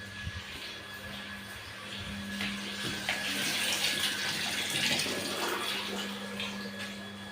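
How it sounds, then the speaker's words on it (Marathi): Water gushing from a tap into a bucket kept for bathing and washing clothes, a steady close rushing hiss with a faint constant hum beneath, continuous and fairly even with no talking. "तर तिकडे पाणी भरलं."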